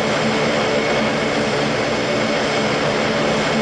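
A turboprop airliner in BSSAX Cantus livery roars steadily through its takeoff run, a loud, continuous broadband engine and propeller drone that holds nearly constant throughout without any voices.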